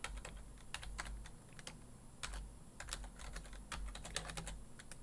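A command typed on a computer keyboard: a quick, irregular run of close, soft key clicks going on steadily, with no voices.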